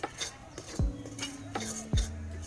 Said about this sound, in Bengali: দুধের ক্ষীরটা খুব করে নাড়তে হবে।